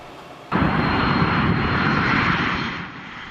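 A loud, steady roar of a P-8 Poseidon military patrol aircraft engine starts abruptly and holds close and strong, easing slightly toward the end.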